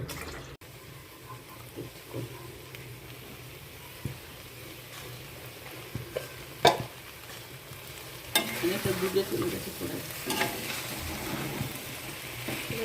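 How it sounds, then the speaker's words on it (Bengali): Country chicken meat being stirred in a dry pan with no oil: scattered scraping clicks and soft sizzling that grows denser and louder in the final seconds. "কিছুক্ষণ ঢেকে রেখে এইভাবে নাড়তে থাকবে মাংসটা। বিনা তেলে মাংস।"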